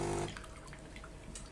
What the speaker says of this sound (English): Now what it's doing is it's sending water through the brewing unit and also sending the degreasing tablet.